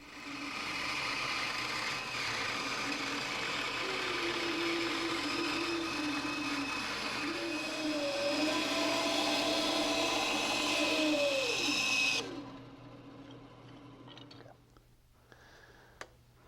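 A bandsaw runs steadily while cutting a wooden cabriole leg, a continuous loud whine and buzz with the blade load shifting as the cut progresses, then the saw cuts off and the sound dies away.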